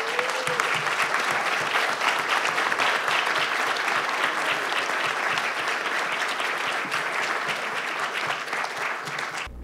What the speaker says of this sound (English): the applause says more than any comment I can have